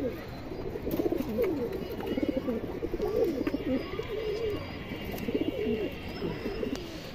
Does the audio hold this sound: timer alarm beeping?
no